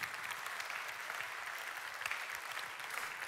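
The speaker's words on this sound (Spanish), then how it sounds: "le puedes dar un fuerte aplauso al Señor" A church congregation applauds, a steady, fairly faint wash of clapping from many hands lasting throughout.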